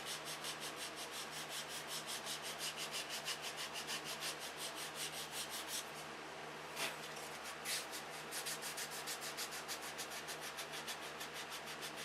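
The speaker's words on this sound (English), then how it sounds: "So we got the stabilizer and the rudder sanded down." Sandpaper rubs back and forth in a steady rhythm on wooden control line model airplane parts, close and fairly faint, with a brief pause and no talking.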